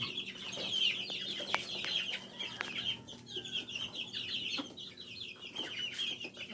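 Grey gamefowl chickens clucking softly in a pen, a steady run of short overlapping clucks and chirps, faint and close, with no talking.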